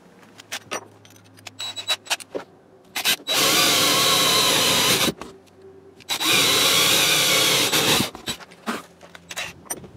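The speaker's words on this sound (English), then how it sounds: "I'm just going to take and drill a 3/8 hole" Power drill boring a 3/8 inch hole through wood decking, two long loud sustained whirring bursts of about two seconds each, separated by clicks, clatter and handling noises.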